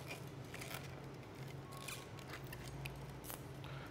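Tape being peeled off the dried glued seam of a sledge hockey stick blade: a faint, continuous crackling rip with small sticky snaps throughout.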